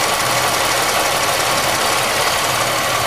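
A GM 3100 V6 idling just after a cold start with piston slap, a loud, steady, close-up engine clatter with a dense rattling knock and no pauses.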